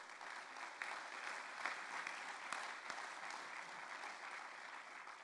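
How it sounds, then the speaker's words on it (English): Faculty members at a university assembly applauding, a faint, distant, steady patter of clapping lasting several seconds with a few sharper individual claps standing out. "I think that deserves a round of applause."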